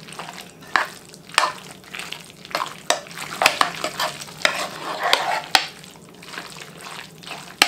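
Egg noodles being stirred with sour cream for a casserole, giving repeated wet, sticky scrapes and soft clicks against the dish in a steady rhythm, close and moderately loud, with no talking.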